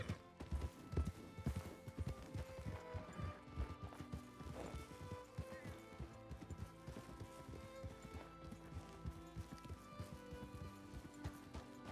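Horse hooves clip-clopping steadily in the Red Dead Redemption roleplay game RedM, a continuous clattering gait with a brief whinny, heard alone at moderate level for the whole stretch.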